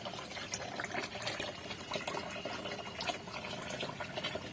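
Freshly picked henna leaves are washed in water, giving a continuous splashing and trickling of running, sloshing water, fairly close and even in level throughout.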